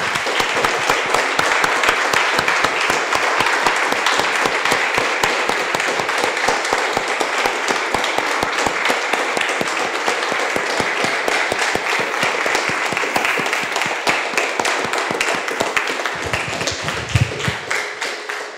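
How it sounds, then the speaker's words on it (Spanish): A church congregation gives long, vigorous applause, many hands clapping in a dense, rapid crackle that holds loud and steady for many seconds before a brief low thump near the end. "Damos un aplauso"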